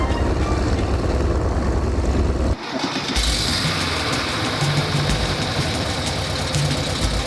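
The engine of Cover Girl, a 1930s airplane, drones continuously in flight, loud and rough, with a brief sharp break partway through before the steady roar resumes.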